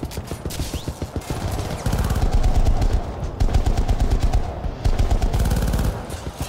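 A sentry gun in the shooter game Syndicate fires long, rapid automatic bursts, loud and close, with short gaps between volleys and steady heavy rattling throughout.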